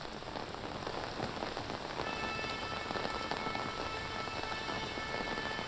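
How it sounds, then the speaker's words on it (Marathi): Heavy unseasonal rain pours down steadily in Pune, a dense, continuous hiss of drops drumming on surfaces with no pauses. "मोठ्या प्रमाणात पाऊस या भागामध्ये होतोय, अवकाळी पाऊस आहे अर्थातच"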